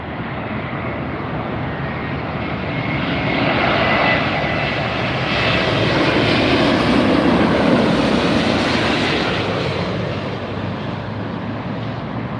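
Airbus A350-900 arriving at LAX from Shanghai, a loud, close jet roar that swells as it passes overhead and then slowly fades, steady and broadband throughout.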